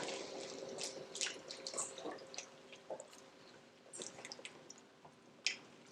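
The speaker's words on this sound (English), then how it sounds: "Gonna add a little bit more milk." Milk is poured into a pan of ham gravy, giving soft liquid dribbles, light splashes and wet bubbling squishes, quiet and close, with no talking.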